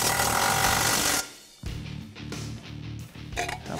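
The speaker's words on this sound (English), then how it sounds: "reinstall the bolts on the factory hangers" Power tool driving bolts back into the factory exhaust hangers during a cat-back exhaust install on a 2015-2017 Mustang GT: a loud buzzing whir for over a second, then a pause and a few shorter rattling bursts close by.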